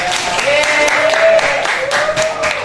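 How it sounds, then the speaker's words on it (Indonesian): Students applauding in a high school classroom, a burst of scattered handclaps that keeps going for a few seconds, with voices talking over it. "Tepuk tangan untuknya."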